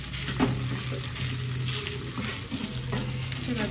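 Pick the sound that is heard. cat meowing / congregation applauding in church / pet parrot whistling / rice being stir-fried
rice being stir-fried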